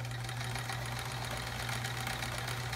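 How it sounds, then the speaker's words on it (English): A sewing machine stitches a quilt block with a steady, continuous motor hum and rapid needle chatter, close and loud, running without a break and with no talking. "let's start sewing this guy."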